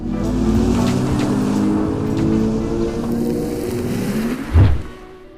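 A Hyundai Ioniq 6 electric car's artificial driving sound: a low, steady synthetic hum with layered tonal bands, swelling slightly and ending in a brief louder thump, no talking.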